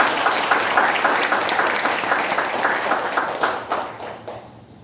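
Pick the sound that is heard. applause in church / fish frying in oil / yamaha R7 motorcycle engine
applause in church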